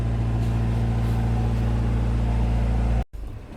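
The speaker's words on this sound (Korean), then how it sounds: "엔진 온도가 100도가 되니까 팬이 돌았죠." A car's radiator cooling fan runs with the engine at 100 degrees, giving a steady, close whirring hum that stops abruptly after about three seconds.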